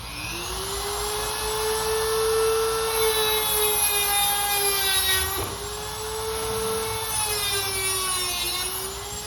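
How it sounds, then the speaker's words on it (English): Dremel rotary tool grinding the end of a model railroad flex track rail, a loud high whine that holds steady, dips briefly near the middle, then resumes with no talking. "Very simple, we'll true that up with our Dremel."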